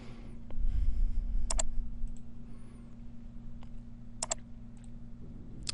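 Mouse clicks on a Windows 7 computer come as a few crisp, quiet paired taps spaced through the stretch, over a low steady hum.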